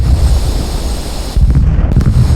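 An F-18 jet breaks the sound barrier in Microsoft Flight Simulator, producing a loud, sustained low roar that drops away and then returns as a deep rumbling boom, with no talk over it.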